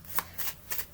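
Oracle cards being shuffled give quick, soft riffling swishes, a few rapid passes close by in a quiet room.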